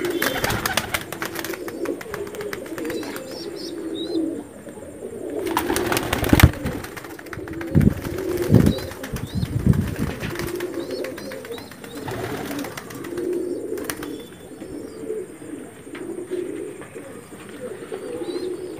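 Madrasi pigeons of the Pulsar breed, a pair just settled in their loft at home, coo in low repeated rolling phrases, with occasional soft chirps and rustling and brief louder knocks in the middle.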